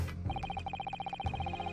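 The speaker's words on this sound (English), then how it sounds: "that's my phone." A mobile phone ringing with a repeating electronic tone, a steady run of short bright beeps in a regular rhythm, close and clear over a faint low background hum.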